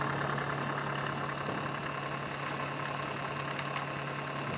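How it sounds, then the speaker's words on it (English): A homemade pulse motor runs steadily with its rotor and magnets spinning, giving a continuous even whir and buzz with a low hum, fairly quiet and close, no voices. "I thought I'd just chuck a bit of a close-up of the motor running"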